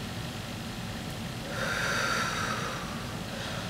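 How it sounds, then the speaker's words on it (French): A single deep breath drawn in and released during a home stretching routine, a soft airy rush of moderate loudness heard close by and alone. "je prends une grande respiration."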